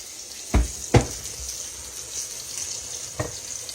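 Country fried steak sizzles steadily in a pan while being flipped, with two soft thumps close together near the start and another later, and no talking.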